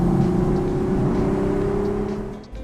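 A 2025 BMW Z4 M40i with a six-speed manual drives through corners, its engine giving a steady, loud drone with a mild rise in pitch before easing off near the end, heard close from inside the car.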